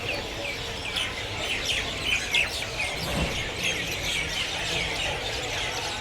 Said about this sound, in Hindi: पर चिड़ियों की चहचहाने की आवाज़ सुनो यार, ऐसा लग रहा है जैसे सुबह हो रही हो।